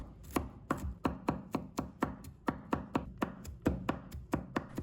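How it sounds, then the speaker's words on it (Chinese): A knife chops garlic into mince on a cutting board in a steady run of about fifteen sharp, evenly spaced strokes, close up and alone. "再切成末"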